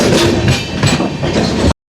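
Padmavathi SF Express train arriving at Venkatagiri station, close and loud rumbling with rhythmic wheel clatter over rail joints, abruptly cutting out near the end.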